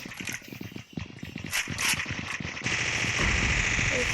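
Gunfire in the video game Scar Fall, rapid bursts of shots and rattling clatter mixed with game noise, growing into a dense steady roar in the second half.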